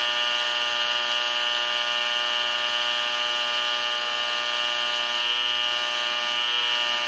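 Fluorescent light signal picked up by a portable recorder hums as a constant bright electrical buzz, with a subtle wavering shift in the tone as a hand passes over the light, no talk.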